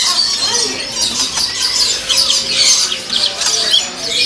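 Many birds squawk and shriek together at a crowded bird market selling imported birds and magpie robins, a loud, dense, continuous chorus with no pauses.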